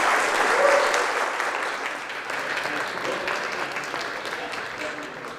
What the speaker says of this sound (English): Round of applause, please, for Beatrice Marizzi.